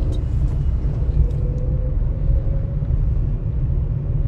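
Truck passing on a multi-lane road, a loud, steady low engine and tyre rumble heard from inside a moving vehicle, with a faint tonal whine rising midway.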